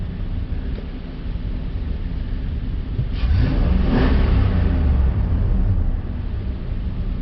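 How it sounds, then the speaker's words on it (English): A 2006 Nissan Titan engine idles steadily, then revs up to a louder, rising roar for a couple of seconds before settling back toward idle, heard close and without talk. "I'm going to rev it up"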